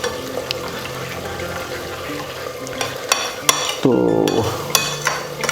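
A spoon stirs and scrapes spice paste into yogurt in a bowl, with soft wet squelching and several sharp clinks against the rim. A brief word of speech is heard amid the mixing.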